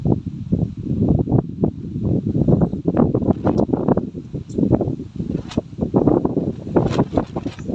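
Strong wind at an outdoor cooking camp buffets the microphone with loud, rough rumbling gusts that rise and fall continuously, with a rustling hiss layered over it and no talking.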